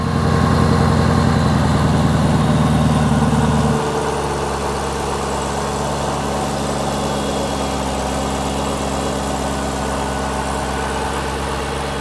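A 2016+ Chevrolet Camaro ZL1 V8 with an aftermarket cold air intake runs at a loud, fast idle, then drops to a lower, steady rumbling idle for the rest.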